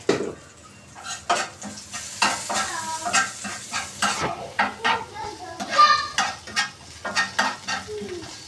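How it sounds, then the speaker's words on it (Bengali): Onions frying with a pinch of turmeric in a pan while making begun vaja, a steady sizzle broken by repeated scraping and stirring strokes, close and fairly loud, with some background voice. "এখন আমি ততক্ষণ ভাজবো যতক্ষণ না পেঁয়াজটা বাদামি রং ধারণ না করছে।"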